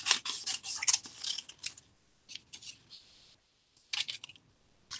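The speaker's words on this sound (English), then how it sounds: "So you're going to have to cut out your words." Scissors snip through printed paper, cutting out words along dotted lines at a classroom desk, in quick bursts of crisp close cuts separated by short pauses.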